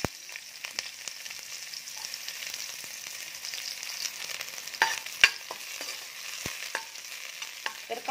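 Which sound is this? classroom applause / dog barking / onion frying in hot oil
onion frying in hot oil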